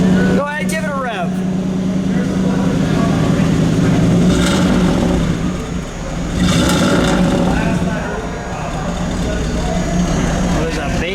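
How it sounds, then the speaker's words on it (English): A 1962 Oldsmobile Jetfire's turbocharged V8 with dual exhaust revs up, a steady low rumble swelling and easing over about eleven seconds, with people talking throughout. "Go ahead, give it a rev."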